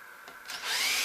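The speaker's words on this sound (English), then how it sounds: "now I want to drill it" Power drill boring into wooden rafter during a chain hoist installation, a short rising whine that builds and holds steady, close and fairly loud.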